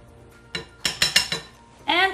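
A spoon clinks against a bowl or pan in a few quick, close metallic taps while soy sauce is mixed into a chili garlic shrimp sauce, followed by a short spoken word.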